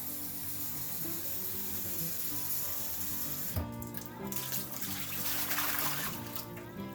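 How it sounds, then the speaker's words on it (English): Hot water pours into a glass IKEA Upphretta French press to pre-warm it, a steady running, splashing wash close by that shifts in pitch midway as the vessel fills, with no talking. "put hot water in this to kind of pre-warm the glass"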